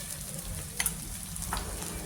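Spices including turmeric and red chili powder fry in a pan for a misal gravy, giving a steady soft sizzle with a couple of brief clinks of a spoon on the pan, without speech.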